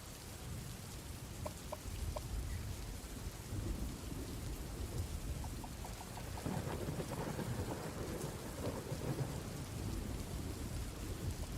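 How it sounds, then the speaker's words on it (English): Steady rain with a few low thunder rumbles in a college football video game, heard faintly and continuously with no talk. "That thunder sounds cool, though."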